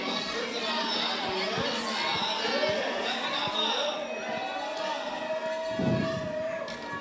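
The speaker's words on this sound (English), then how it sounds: "You can hear the crowd cheering on Haruko coming from so far away." Distant crowd cheering at an outdoor ice climbing competition final in Bern, Switzerland, a steady faint roar of shouts and encouragement heard from far away, with a short louder burst near the end.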